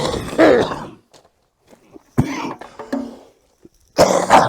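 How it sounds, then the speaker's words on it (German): Three bursts of harsh, close coughing from dust on the roads in Siberia, with short gaps between them, followed by some throat noises and breathing. "ich habe noch ein bisschen Husten von dem vielen Staub auf den Wegen"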